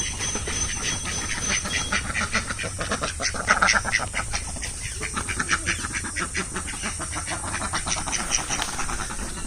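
A flock of ducks quacking together near a rural home, rapid repeated nasal calls overlapping in a busy chorus, fairly close and sustained.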